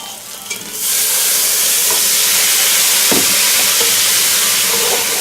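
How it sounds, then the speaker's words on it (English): Vegetables browning in a hot pan are deglazed for round steak in gravy, bursting into a loud, steady sizzle and steamy hiss that holds strong for several seconds after a quieter start. "Alright, our vegetables are browning down pretty good there. Time to deglaze a little bit."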